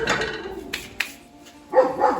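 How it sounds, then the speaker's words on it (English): A neighbour's dog barks several times at a moderate distance, short woofs and yips outdoors, loud and alone. "Neighbour's dog's saying hello."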